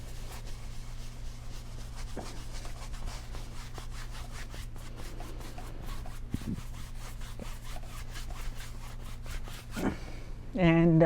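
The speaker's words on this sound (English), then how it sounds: "So just scrub in some yellow there." A brush scrubs cadmium yellow oil paint onto canvas, a steady close-up scratchy rubbing that runs continuously, with a brief tonal sound at the very end.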